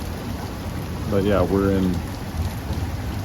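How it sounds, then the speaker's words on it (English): Heavy rain falls in a steady, dense hiss at a camp near Leakey, Texas, continuing under a man's brief spoken remark. "This would be joyful heavy rain."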